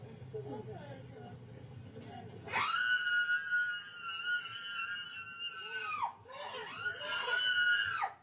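A passenger on an aircraft lets out long, piercing, sustained screams at close range after some low chatter, with a brief break before the screaming resumes.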